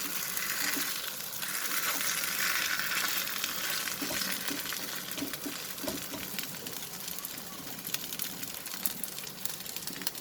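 A potato crepe sizzles and fries in a pan over a medium flame, a steady bright crackling hiss throughout, close and moderately quiet, without any talk.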